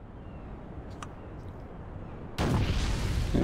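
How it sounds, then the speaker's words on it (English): Cannons fire from ships and towns at enemies in the naval strategy game Age of Booty: faint distant pops early on, then a sudden loud sustained blast of booming gunfire. "All ships, towns, lairs, and villages will automatically fire cannons at enemies with one hex."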